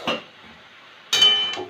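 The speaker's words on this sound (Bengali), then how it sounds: "3 মিনিট পরে আবার ঢাকনা তুলে নিলাম।" A lid is lifted off a cooking pot with a short metallic clink, a quiet pause, then a louder ringing clatter of metal against metal.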